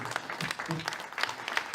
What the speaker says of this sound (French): Et j'aimerais juste terminer en demandant des applaudissements pour Silvio